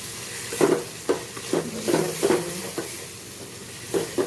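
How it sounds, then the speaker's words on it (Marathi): A spoon works a thick peanut paste mixture around a frying pan in a string of short scraping, sizzling strokes with uneven rhythm, close and fairly loud, and no voices. "त्यानंतर आपण त्याला थोडंसं असं मिक्स करून घेऊया"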